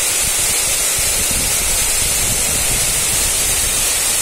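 Water falling and spraying inside a power plant cooling tower, a loud continuous hissing rush with no break and no voices.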